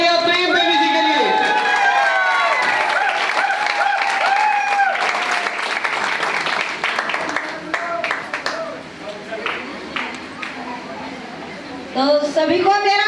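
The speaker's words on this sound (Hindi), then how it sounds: "जोरदार तालियां" A crowd applauds with cheering, loud at first and gradually thinning into scattered claps, while a voice speaks over the noise.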